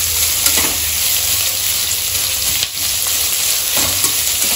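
Chopped onions frying and being stirred in a pan, a steady close crackling sizzle with soft scrapes of stirring running throughout, no voices.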